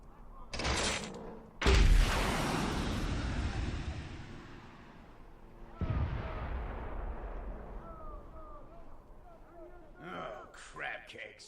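Mortar fire in the video game RISK Factions sounds as heavy booming blasts, one at the start and a large one near two seconds, each fading into long rumbling echoes. A voice talks through parts of it.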